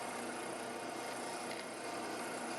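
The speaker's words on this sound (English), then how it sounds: "By drilling through the first set of scale holes into the bottom wood, the holes on all pieces should be in perfect alignment." Power drill boring through wooden knife handle scales, a steady continuous whirring grind at moderate distance with no pauses.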